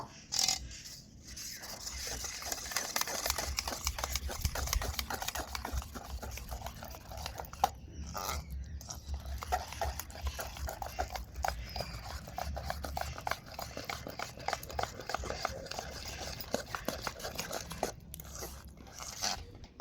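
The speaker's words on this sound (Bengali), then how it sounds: "এবার আমি এগুলো সবগুলোকে মেখে একটা ব্যাটার তৈরি করে নেব" Eggless cake batter being mixed by hand in a bowl, with wet crunchy scraping and squelching strokes that repeat steadily and close up, with no voices.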